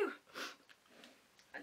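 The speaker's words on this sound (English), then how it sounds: "Sorry, I'm going to sneeze again." A single soft sneeze close to the mic, followed by faint sniffs and breathy noises in an otherwise quiet room.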